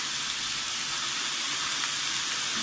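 Beetroot and carrot fry with onion, spices, salt and turmeric, giving a loud, steady, even hiss of sizzling oil that continues unbroken throughout with no voices.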